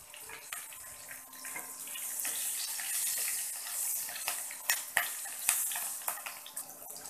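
Green chillies hit hot oil in a wok where hilsa fish has just been fried, giving a soft steady hiss with a few sharper pops and crackles near the end.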